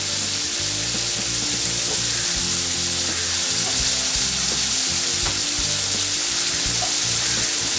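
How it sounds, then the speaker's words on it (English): Bitter melon and beef sauté in a pan with a loud, steady sizzle that runs without a break, broken by faint clinks from stirring. "Let it saute."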